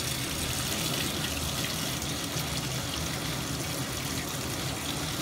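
Lukewarm water pours steadily into a bathtub for a diaper rinse, a constant broadband rushing gush that stays even and close throughout with no talk.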